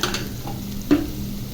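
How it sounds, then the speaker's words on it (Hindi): Stuffing for mutton and vegetable rolls, seasoned with soy sauce and white vinegar, fries in a pan, giving a steady close sizzle with a brief scrape of stirring near the middle. "1 मिनट के लिए मैं अच्छी तरह इसको फ्राई कर लेती हूँ।"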